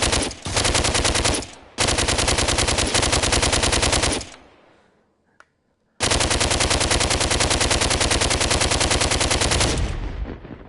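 Rapid automatic gunfire from the VR shooter DWVR played with an aim controller on PSVR, two long sustained bursts of loud, evenly spaced shots separated by a brief pause.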